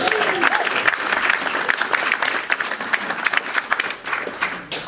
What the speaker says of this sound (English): Someone give that a round of applause.